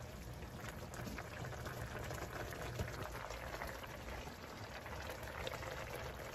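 Sherbet syrup poured over a baklava tray, a soft continuous liquid splashing and sizzling hiss, steady and close with no talk.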